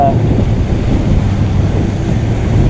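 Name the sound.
wind and sloppy seas while sailing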